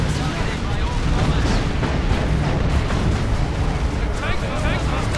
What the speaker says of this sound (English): Rocket barrage goes in